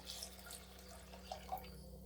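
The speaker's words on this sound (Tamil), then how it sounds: "இப்போ பருப்பு மூழ்கிற அளவு தண்ணி ஊற்றிப்போம்" Water poured over lentils in a pot while making sambar, a steady close splashing pour with a couple of slightly louder splashes near the end, no voices.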